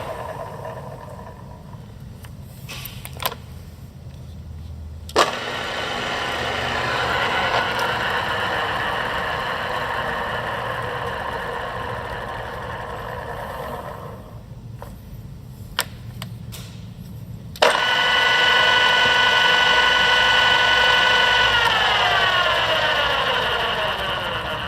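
The motor of an Arboga 40-inch by 9-inch radial arm drill, model RLM3508, hums steadily at close range with a few clicks and clunks, then spools down with a falling whine; no voices.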